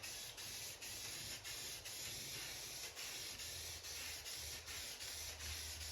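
Aerosol spray can laying a second coat of paint onto plastic parts for a multi-cade arcade cabinet build, a steady close hiss broken by short pauses between passes, with low rumble underneath.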